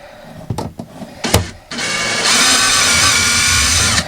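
A power drill backs screws out of a camper panel. A few short clicks and bursts come first, then a steady, loud, close whirring run that lasts several seconds with no talk.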